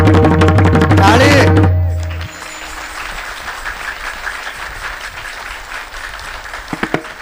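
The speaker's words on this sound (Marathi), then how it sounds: "थांबा थांबा टाळी वाजवा." A voice sings or calls out at a kirtan, then the audience breaks into sustained, full-bodied hand clapping that carries on to the end.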